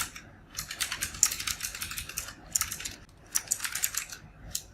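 Bursts of rapid keystrokes on a computer keyboard while code is entered, with close, crisp clicking that comes in quick runs separated by short pauses, and no voice.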